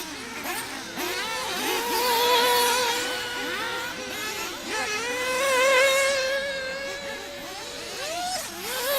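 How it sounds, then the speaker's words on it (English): Nitro RC racing buggy engines rev and whine at an outdoor race track during an intermediate nitro buggy heat, high buzzing tones rising and falling as cars pass, moderately loud with no talk. "I hear revving behind me, so that's a good sign."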